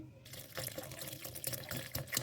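Water splashes steadily into a grinder jar holding yogurt and gram flour for kadhi, a continuous close liquid pour with small gurgles and spatters.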